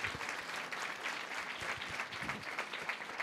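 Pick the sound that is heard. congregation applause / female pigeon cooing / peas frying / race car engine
congregation applause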